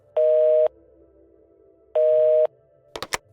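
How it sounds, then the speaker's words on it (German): A mobile phone call rings out on the line as two identical steady electronic tone bursts, about half a second each and spaced well apart, followed by a few brief clicks. "Beim Anblick dieser Szene griff sie sofort zu ihrem Handy und rief ihren Freund Albert an."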